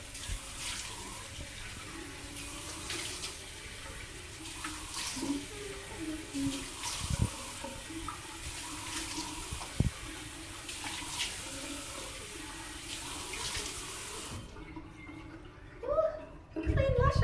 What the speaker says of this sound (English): Let's see if I can turn on the water now.